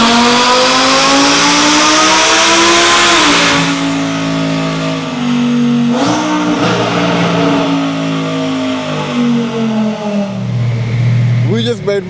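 Twin-turbo Audi R8 Spyder engine screaming loud and close on a dyno power run, its pitch climbing steadily through the revs, then dipping briefly around a shift and continuing before settling lower near the end.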